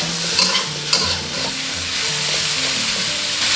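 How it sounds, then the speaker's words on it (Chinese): Pork tripe stir-fries in a pot with a loud, dense sizzle and close scraping strokes of a spatula against the metal, continuous throughout. "加入猪肚。 朋友们，事先把这个猪肚炒一下"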